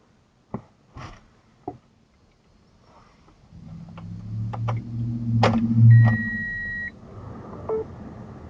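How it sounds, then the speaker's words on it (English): A van's starter cranking without the engine catching, a low grinding churn building over several seconds, preceded by a few sharp clicks and marked by a high electronic warning beep partway through. "It feels like the starter's turning and the car's not turning over."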